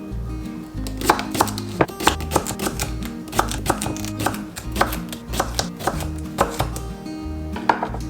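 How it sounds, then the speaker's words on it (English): Cucumbers sliced with a dull kid's crinkle-cut knife for pickles, giving a steady run of close, crisp chopping knocks on a board, about two per second, with no talk. "I'm going to take the others and slice those"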